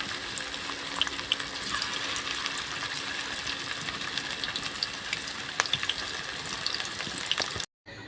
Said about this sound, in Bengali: বাকি চিকেনগুলো আমি সব এইভাবে ভেজে নেব।